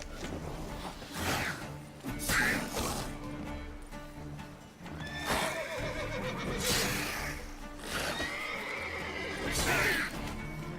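Roach, a horse in The Witcher 3, whinnies repeatedly in loud bursts between steady hoofbeats at a gallop, with faint game ambience underneath.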